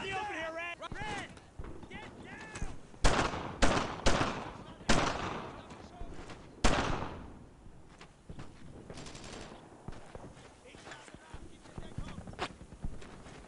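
Rapid bursts of gunfire rattle through a war video game battle, sharp loud volleys and single shots scattered across the scene, with soldiers shouting orders over the shooting.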